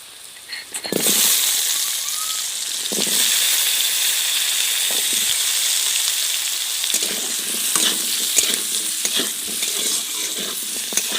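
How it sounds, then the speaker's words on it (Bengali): Potatoes fry in a pan with lightly fried onion, a loud, steady close sizzle running throughout, with a few stirring scrapes near the start and again in the second half. "এবার আলুটা আমি একটু কষিয়ে নেব।"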